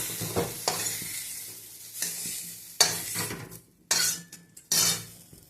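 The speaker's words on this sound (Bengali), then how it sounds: "এবারে আলু আর বাজারগুলো ভাজবো।" Potatoes and vegetables frying in a pan over a constant sizzle, broken by several loud separate scrapes of a spatula against the pan, close by, with no talking.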